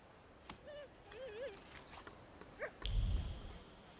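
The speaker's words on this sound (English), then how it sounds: "Nice little doggy there." A dog in the video game The Thaumaturge gives several short, rising whimpers and yips at moderate distance, followed by a low thump, with nobody talking.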